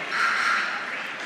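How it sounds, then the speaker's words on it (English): A high school boys varsity basketball crowd claps for starters heading to the bench, a brief wash of applause lasting about a second at moderate loudness. "their starters get a nice hand from the crowd"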